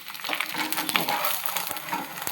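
Food is stirred and fried in a pan, a brisk sizzle with repeated scraping strokes of a spatula, close and moderately loud, no one speaking.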